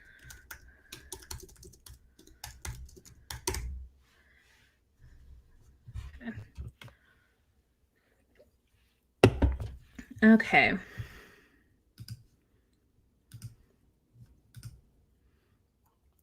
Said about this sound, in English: When you hear me typing, that is me going to Goodreads.